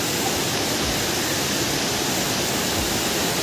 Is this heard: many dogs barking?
no